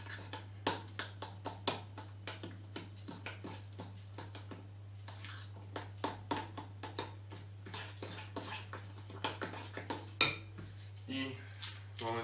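Buckwheat groats stirred in a pot with a utensil, giving a steady run of quick scraping clinks against the pot over a constant low hum, with one sharper knock near the end; no talking.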